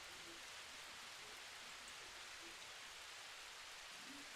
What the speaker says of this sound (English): let me check my volume because this rain sound loud